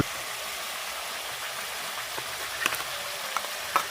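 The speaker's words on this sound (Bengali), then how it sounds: "ওটাকে উল্টো পাল্টা করে তেলে ভালো করে মিক্স করে নেব।" Rui fish frying in hot oil with mustard paste, a steady close hiss and sizzle with a few faint clinks as the pieces are turned.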